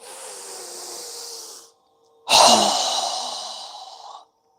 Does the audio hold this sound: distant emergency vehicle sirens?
no